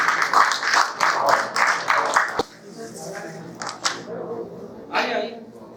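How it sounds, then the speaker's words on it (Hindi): An audience at a mushaira poetry gathering in Bangalore breaks into applause, a dense clapping burst that soon drops away, followed by scattered claps and talking. "पुरजोर तालियों के साथ उससे कबल करें"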